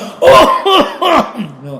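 A voice imitates a cough with three short, forced bursts in quick succession, then a softer trailing vocal sound.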